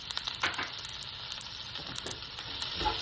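Garlic and onions sizzling together in a hot pan for sautéed beans, a soft continuous frying hiss with light crackles and occasional stirring scrapes, fairly quiet and with no talking.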